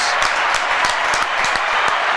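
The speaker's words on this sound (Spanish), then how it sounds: "Vamos a darle un aplauso por esta entrevista" Audience applause at a Christian church gathering after an interview: a dense, steady wash of many hands clapping together, fairly loud and sustained throughout.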